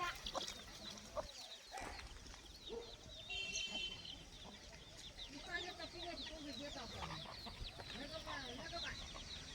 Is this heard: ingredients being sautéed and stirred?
no